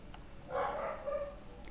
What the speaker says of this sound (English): Those are my dogs.